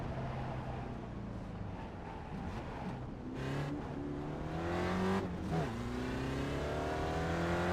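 Spec Racer Ford race car engine in iRacing at the Long Beach street circuit, its revving tone dropping and rising through several downshifts and re-accelerations, loud and close, with a rising whine toward the end.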